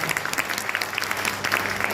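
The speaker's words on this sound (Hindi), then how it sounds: "तो एक बार सबके लिए ताली बजा लीजिए" Audience applause at a motivational talk, a steady burst of clapping from a crowd filling the short stretch without voices.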